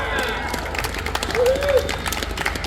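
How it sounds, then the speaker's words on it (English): A rally crowd outside Wabtec corporate headquarters applauds, sustained clapping from many people with shouts and a raised voice over the top, loud and close throughout. "Give yourselves a round of applause."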